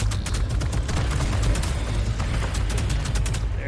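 Rapid gunfire pours into a creature in the video game Ark, a dense, continuous fusillade of loud, closely spaced shots lasting the whole stretch.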